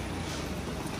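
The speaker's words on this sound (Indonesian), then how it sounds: "manasin motor doang itu kayaknya apa?" A motorcycle engine warming up, heard as a steady, continuous rumble with a broad noisy hiss that holds at an even level throughout.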